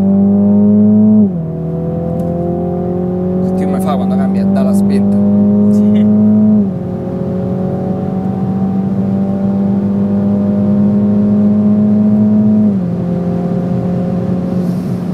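Mini GP3 engine accelerating hard in sport mode, its loud rising drone dropping sharply at two automatic gear changes before climbing again, with brief speech heard inside the car.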